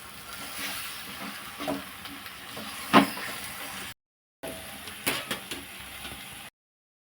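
Fish pieces in a pan being mixed with a wooden spatula for a Godavari-style tamarind fish curry, soft scraping strokes and a few knocks over a low sizzle, close by, with brief silent gaps.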